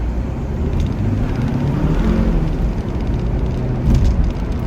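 Car pulling away quickly from a stop, a loud, continuous low engine roar and rumble rising slightly over several seconds, with no talk.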